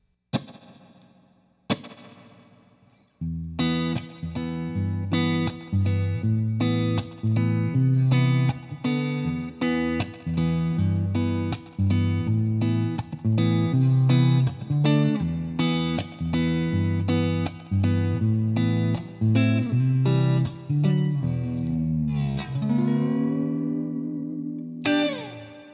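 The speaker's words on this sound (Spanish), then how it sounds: "El siguiente preset se llama Hall of Glory. Está basada en una reverberación de Hall." Electric guitar played through a JHS Alpine reverb pedal on its Hall of Glory hall reverb preset, with rhythmic chords and notes sustaining into a wide, lingering wash, steady and loud throughout with a swelling tail near the end.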